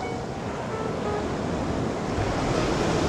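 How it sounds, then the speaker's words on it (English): Ocean surf rolling onto a beach on a sunny day, a steady broadband wash of waves with some wind noise, continuous and fairly loud with no talk. "It is a beautiful day here on the beach"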